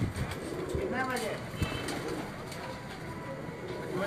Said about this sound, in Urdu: 5:54 پر جی چودھری نعیم کا یہ دوسرا کبوتر بیٹھا ہے